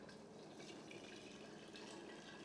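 Starchy potato water poured from a pot into a measuring cup while making a sourdough starter, a continuous splashing, gurgling stream close to the microphone with no talk.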